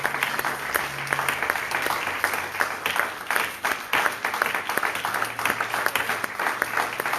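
Church congregation applauding during a worship service, dense sustained clapping from many hands filling the room throughout, with faint voices underneath.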